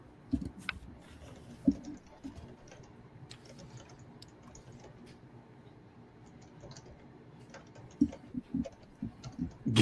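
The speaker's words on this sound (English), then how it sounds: "Just don't pound the keys as hard, right?" Rapid clattering keystrokes on a computer keyboard, uneven and fairly close, with louder bursts of heavy typing near the start and end.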